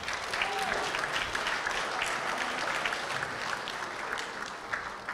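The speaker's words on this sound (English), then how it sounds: "Please give them another great round of applause." Audience at the Miss Samoa 2021 pageant applauds the judges with a steady, dense round of clapping that holds evenly throughout, with no distinct voices rising above it.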